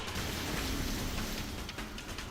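Torrential monsoon rain falls in Lakhandur, Bhandara, a loud continuous wash of dense hiss and patter with no voices over it.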